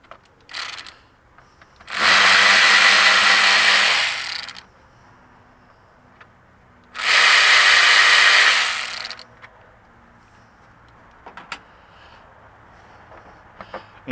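A ratchet backs out 10 mm bolts on a Toyota Tacoma 4.0 V6 engine cover, in two loud bursts of rapid clicking about two seconds each, with quieter handling clicks between and after.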